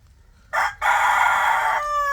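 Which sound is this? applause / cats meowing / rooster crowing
rooster crowing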